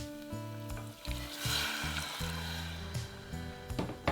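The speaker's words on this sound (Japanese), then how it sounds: "よく火が入ったのでここでブルゴーニュの白ワインを入れます" Burgundy white wine is poured into a hot pan of sautéed ingredients, raising a sharp, loud hiss that settles into a busy sizzle, with tonal background music underneath.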